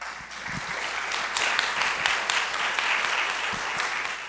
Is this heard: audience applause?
yes